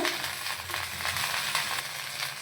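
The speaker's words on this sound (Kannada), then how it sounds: "ನಾನು ಇವಾಗ ಬೆಂಡೆಕಾಯಿನ ಹಾಕ್ತಾ ಇದ್ದೀನಿ." Okra frying in a hot pan with oil gives a brief, continuous sizzling hiss with soft crackles, close and without talk.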